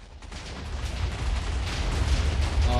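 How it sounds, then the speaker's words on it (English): Minecraft explosions rumble on a survival multiplayer server, a rolling low boom that swells and stays loud through the short stretch, with crackling debris layered over it. "What is exploding?"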